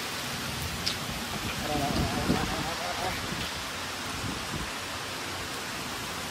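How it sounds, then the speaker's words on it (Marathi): Steady, dense hiss of heavy rain pouring down throughout, with a brief murmur of a voice partway through. "तर लय जोरात पाऊस चालू झालाय."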